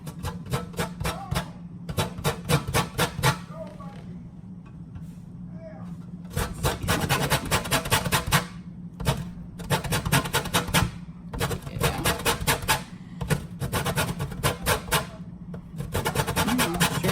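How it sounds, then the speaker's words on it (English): A lemon is rubbed against a zester in quick, repeated rasping strokes that come in bursts of a second or two, close by, over a steady low hum in the kitchen. "I'm gonna take my lemon here and zest it as promised"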